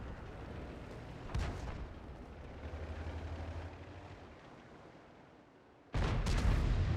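Artillery fire in a video game, heard as a sharp heavy boom with a rumbling tail, a stretch of quieter low rumble, then a second loud boom near the end, with no talking.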